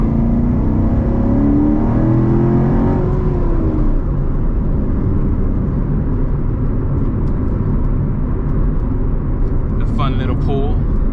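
A Chevrolet Corvette C7 Z51 Stingray drives with a steady, loud engine and road drone, with a rising whine from acceleration early on, while someone talks over it throughout.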